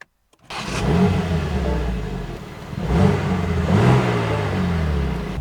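BMW G87 M2 fires up from the push start button with a quick crank and a loud close bark, then settles into a rumbling idle with a couple of blips of revs.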